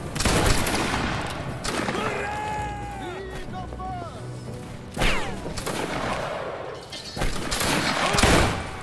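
Bursts of massed musket volley fire crackle in a Napoleonic Wars video game, with several rolling salvos spaced a few seconds apart, loud and close, mixed with in-game battle noise and shouted voices.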